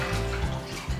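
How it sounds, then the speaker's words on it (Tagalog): Water pours steadily from a container into a cooking pot of chicken mechado sauce, a close, continuous splashing gush lasting about a second. "At magdadagdag din ako ng tubig."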